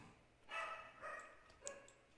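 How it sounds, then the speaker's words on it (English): Faint dog barks in the distance, three or four separate woofs spaced unevenly over a quiet background. "You can hear my dogs in the background."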